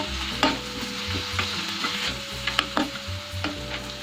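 Shami kabab mixture stirred in a pan over the flame, a steady low sizzle broken by repeated scraping strokes and soft clinks of the spoon against the pan, close by with no talking.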